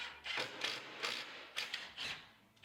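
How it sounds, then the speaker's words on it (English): Pocket screws being driven into cabinet end panels during a custom kitchen cabinet install, with a rapid series of close, bright bursts of driver whir and ratcheting. No one speaks. "Now I pocket screw into those end panels"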